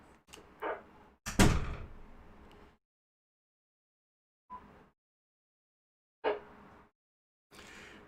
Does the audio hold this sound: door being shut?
yes